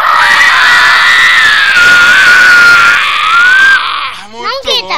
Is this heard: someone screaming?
yes